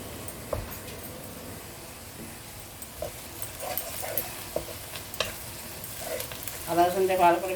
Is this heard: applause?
no